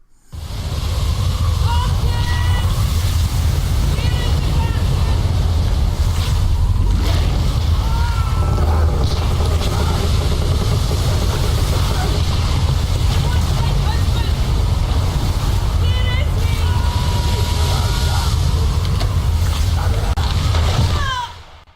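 Stormy high seas from the video game Return of the Obra Dinn, with loud, continuous roaring wind and crashing waves, a dense unbroken wash of sound throughout.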